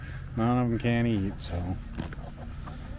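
Chickens on a homestead cluck in a few short, close bursts, with a person talking over and after them.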